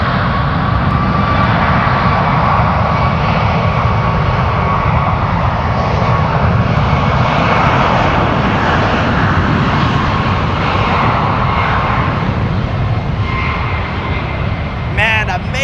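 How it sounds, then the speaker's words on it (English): An American Airlines jet takes off at San Francisco bound for Philadelphia, its engines a loud, sustained roar with a rising whine running throughout. "amazing sounds right now on the ones. American Airlines taking off, heading to Philadelphia"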